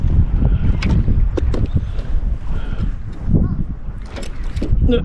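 Wind buffeting a kayak out on a lake: steady rumbling gusts over the microphone with light water and hull knocks, and someone speaking over it.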